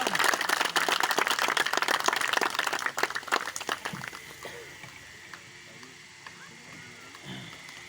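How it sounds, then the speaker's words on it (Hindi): A crowd at a society office inauguration event applauds to welcome a speaker, dense close clapping that tapers off into scattered claps and room murmur with some faint voices. "तालियों की गूंज में उनका इस्तकबाल।"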